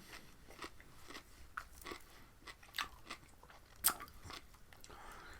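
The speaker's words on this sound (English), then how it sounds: "I'm getting carried away eating the cucumber." Raw cucumber crunched and chewed up close, a series of crisp bites and wet crunches at an uneven pace, quiet overall with one sharper crack near the end.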